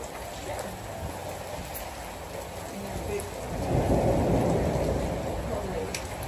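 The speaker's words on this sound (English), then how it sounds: "Then I can sit out here and watch my rain thunderstorms." Steady rain falls around a covered porch during a thunderstorm, a dense wash of drops with low rumbling that swells louder midway, heard fairly close throughout.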